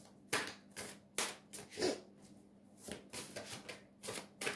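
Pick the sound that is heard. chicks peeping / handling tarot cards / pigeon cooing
handling tarot cards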